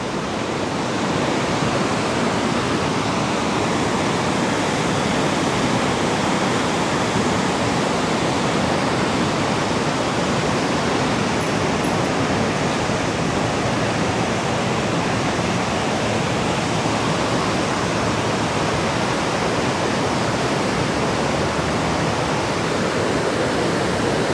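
Water rushes steadily through a reservoir in a loud, unbroken broadband roar that holds even and constant throughout, with no voices over it.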